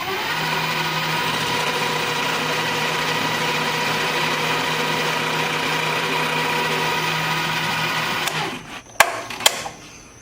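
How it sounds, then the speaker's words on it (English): A drill spins a plug cutter into a wooden board, a steady whining motor hum for about eight seconds that stops abruptly, followed by a couple of sharp knocks. "So what I'm gonna do is cut a plug out of this guy"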